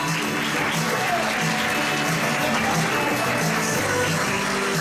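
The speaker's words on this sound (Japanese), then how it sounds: "皆さん、大きな拍手で。" Guests applauding at a Japanese wedding reception during the cake first bite, steady clapping spread through the hall under background music, continuing at an even level throughout.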